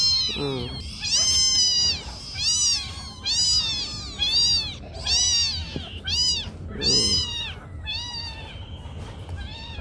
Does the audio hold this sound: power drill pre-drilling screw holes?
no